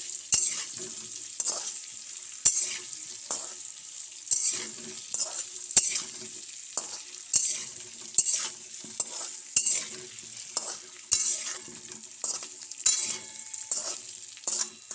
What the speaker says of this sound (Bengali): নুন দিয়ে আলুগুলো ভাজবো